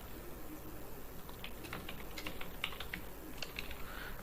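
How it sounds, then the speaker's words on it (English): Quiet, rapid keystrokes tap on a computer keyboard in uneven bursts over a steady background hiss, faint and close with no talking. "now Matthew is typing"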